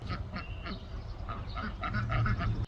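Ducks being given fresh water and feed in their shelter quack in scattered bursts, fairly quiet, over a low background hum.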